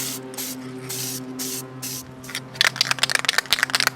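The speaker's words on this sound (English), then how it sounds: "I do what's called a ghost coat, where I just kind of fog everything lightly." Light ghost coat of spray paint fogged onto prop boots, four short hissing aerosol bursts in a steady rhythm, followed by rapid rattling clicks as the can is shaken.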